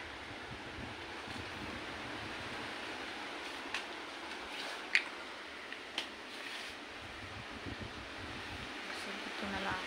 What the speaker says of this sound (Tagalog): bumibuga na naman yung malakas na hangin